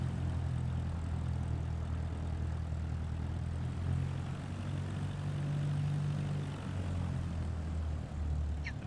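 A Cessna propeller plane's engine in Microsoft Flight Simulator 2024, a steady low droning hum with slight pitch shifts, constant and moderately loud throughout with no talking.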